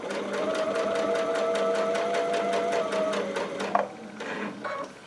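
A Baby Lock Altair sewing machine stitches down quilt binding in a loud, fast, steady whirring run that stops abruptly, followed by a few small clicks and handling sounds.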